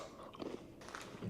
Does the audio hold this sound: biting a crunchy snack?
yes